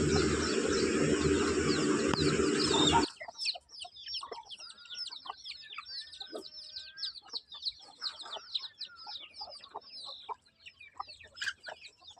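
After a few seconds of a loud rushing noise, several Peruvidai chickens cluck and chirp nearby in a quiet setting, their calls overlapping irregularly.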